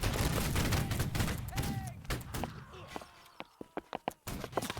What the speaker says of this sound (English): one last volley